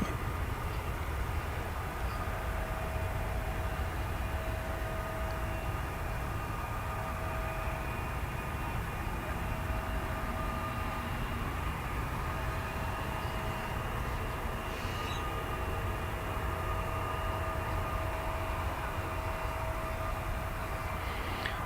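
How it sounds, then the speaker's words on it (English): A steady, distant jet roar from an Embraer 175 airliner at DFW Airport, a broad continuous rumble with a faint whine that holds level for the whole stretch with no talk. "As in an Embraer 175 on its way headed south to Corpus Christi"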